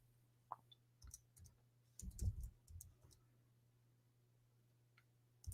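Scattered clicks of a computer keyboard being typed on, faint and irregular, with a short burst of several keystrokes near the middle against a quiet background with a low electrical hum.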